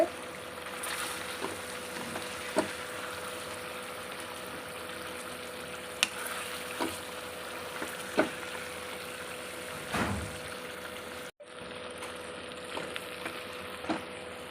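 Chicken coated in masala fries in a pan for a coconut milk chicken gravy, a soft continuous sizzle broken by occasional scrapes and knocks of stirring, quiet and close with no talk.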